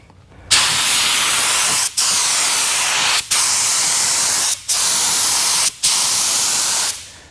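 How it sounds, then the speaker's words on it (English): A SATA spray gun hisses in five steady bursts, painting a motorcycle gas tank from six to eight inches, each burst broken by a brief pause, the broadband spray loud and close. "then I'm ready to spray"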